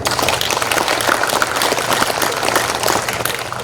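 Crowd applause at a Seosang-myeon residents' general assembly and multicultural festival, a dense, steady patter of many hands held at one level over a low steady hum throughout.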